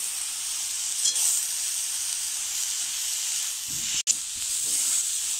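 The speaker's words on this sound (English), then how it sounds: "now add the coconut mixture and mix it thoroughly." A coconut mixture sizzles steadily in a pan as it is stirred, giving a continuous bright hiss at even loudness, broken by a faint scrape and one brief drop and return. No one speaks.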